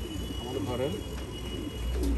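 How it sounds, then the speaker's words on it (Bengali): Pigeons cooing in a loft housing racing pigeons, soft repeated coos up close over steady background noise, with someone talking nearby. "ঘরের কবুতর"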